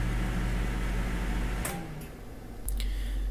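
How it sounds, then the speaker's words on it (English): A microwave oven humming steadily on high while semi-sweet chocolate chips melt in a small bowl, with a low constant drone, a brief dip in the middle, and a couple of faint clicks. "We're going to microwave this on high for 1 minute."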